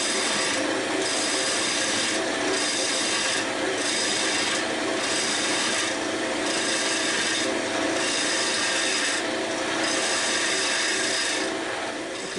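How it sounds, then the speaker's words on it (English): A wood lathe turns a tenon on a rusty bowl, giving a loud, continuous rasping scrape of the tool against the spinning wood. Regular bright bursts of cutting noise pulse through it about once a second. "I'm going to turn a tenon on the inside, turn it around, redo the backside"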